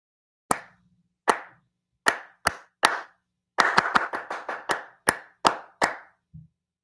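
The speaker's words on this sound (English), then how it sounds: "when I clap a distinctive rhythm, you know what it is" A single pair of hands claps out a recognizable song rhythm: a few spaced claps, then a quick run of claps and several more evenly spaced ones. Sharp, close and loud, heard alone with no voices.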